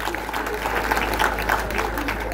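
A crowd at a gathering claps steadily for a director named Fred Mafure, dense and continuous applause with voices mixed in underneath.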